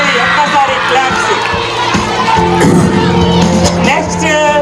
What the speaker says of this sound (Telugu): ఒక్కసారి క్లాప్స్